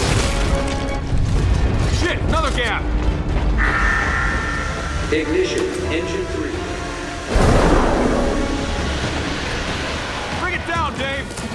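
Rocket engine ignition in Gears 5 rushes and roars like heavy noise, with a fresh loud surge partway through, while a voice talks over the game sound.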